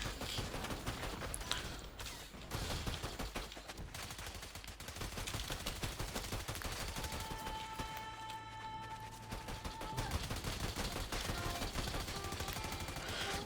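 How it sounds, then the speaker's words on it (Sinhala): Gunfire from the video game Fortnite crackles in rapid bursts and scattered shots over a dense, busy game soundtrack, steady and moderately loud throughout with no voices. "මේගොල්ලෝ මෙහෙම මේ වෙඩි තිබ්බට ඉතින් වැඩක් නැහැ වදින්නේ නැහැ නේ"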